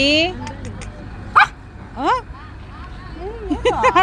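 A dog gives a few sharp, scattered barks and yips at moderate distance, while people talk nearby.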